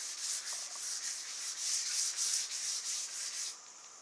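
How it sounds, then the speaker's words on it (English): Metal is hand-sanded with 600-grit wet/dry sandpaper in quick back-and-forth strokes. It makes a steady, close, hissing scrape that eases off near the end. "600 wet dry sandpaper, and I'll just clean this up"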